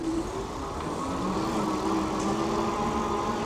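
An electric cargo fatbike motor, limited to 25 km/h, whirs steadily as it climbs a hill, a close, even hum with a faint higher whine and no voices.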